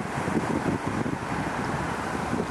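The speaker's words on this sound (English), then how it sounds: "Wind's picking up, man." Wind gusting outdoors at a wild camping spot in the UK countryside in autumn, a soft rushing roar with buffeting against the microphone, steady and fairly quiet over a couple of seconds.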